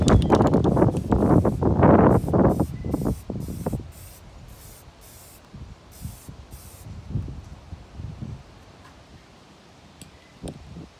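Short hissing bursts of spray paint coat a homemade catfishing lure in blue and white, about half a dozen quick regular puffs at close range after a loud opening, then quieter handling and faint rustling.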